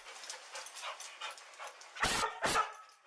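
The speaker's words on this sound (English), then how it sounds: "The dogs are loud" Dogs bark and yip nearby, with a run of softer whimpering yelps followed by two loud, close barks at the end.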